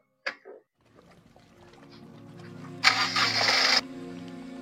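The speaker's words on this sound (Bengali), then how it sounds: "গাড়ি একটু স্টার্ট করো" A brief clunk, then a Honda City diesel car engine cranks and turns over, a sharp burst of noise as it catches, settling into a low steady idle.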